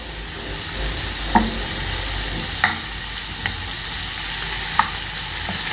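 Egyptian sausage frying in hot oil, a steady close sizzle with a few sharp utensil clicks and taps over the top; no talking.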